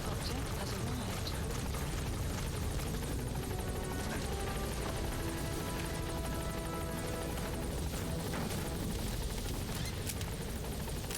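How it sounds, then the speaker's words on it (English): Support helicopter arriving in the video game Metal Gear Solid V: The Phantom Pain, a dense continuous rotor roar filling the scene with scattered sharp bursts like gunfire mixed in, loud and steady throughout. "Support helicopter has arrived."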